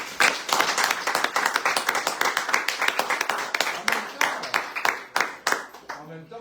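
Hands clapping in a French radio studio during a bistro-style talk show, a dense, steady burst of applause from a small group, close and lively, holding for several seconds before thinning out at the end.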